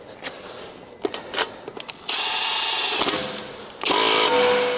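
A power tool whirs on a 19 mm socket, driving wheel spacer bolts on a BMW G80/G82/G83 after a few clicks and clatters, two sustained loud runs close by, no talking.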